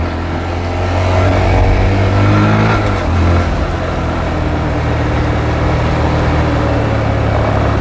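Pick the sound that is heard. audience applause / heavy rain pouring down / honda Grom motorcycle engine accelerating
honda Grom motorcycle engine accelerating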